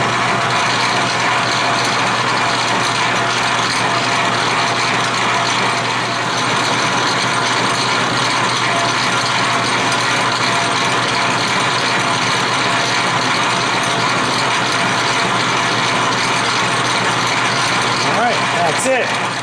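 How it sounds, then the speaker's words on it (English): A machine cuts a relief groove 1/8 inch wide, likely on a lathe setup for a grinding wheel balancing system, giving a steady, dense mechanical grinding and ratcheting drone that stays loud and constant throughout with no talk. "Now it's time to make a relief groove that's 1/8 of an inch wide"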